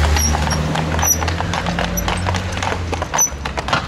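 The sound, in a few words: horses' hooves clip-clopping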